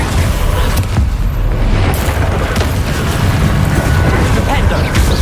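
Fire-spell blasts in the Hogwarts Legacy video game sound as dense, loud booming bursts and crackling whooshes that run on continuously amid noisy combat, with speech-like game chatter mixed in.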